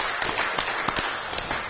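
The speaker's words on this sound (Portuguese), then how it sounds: "Vamos aplaudir o Jurandir." Audience at a talk by accounting master Dr. José Luiz da Silva applauding, a dense, steady patter of many hands with a few sharper claps standing out.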